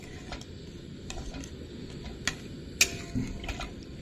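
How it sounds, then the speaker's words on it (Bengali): A spoon stirs spiced curry with water in a pan, making a quiet, uneven run of light taps and scrapes against the metal. A few louder clinks stand out over a soft background simmer. No one speaks. "জল দিয়ে ভালো করে নাড়িয়ে নেব"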